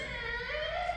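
A person's voice imitates a squeaky door slowly opening, a drawn-out rising creak lasting about a second.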